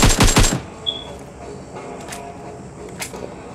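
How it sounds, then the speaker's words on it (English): A burst of rapid gunfire from guns in the PUBG video game, loud and close at the start, followed by quieter scattered shots and faint pings over low background noise. "didn't we come out here to shoot some guns?"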